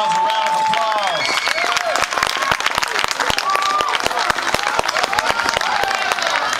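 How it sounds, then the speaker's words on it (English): A crowd applauds steadily, dense clapping mixed with cheers and whoops, while a voice calls out over the noise near the start. "let's give Justin Reynolds a round of applause."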